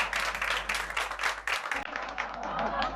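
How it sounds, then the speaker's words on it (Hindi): A small group of women at a community gathering claps briefly and unevenly, fairly close, with voices chattering over the clapping. "तालियां!"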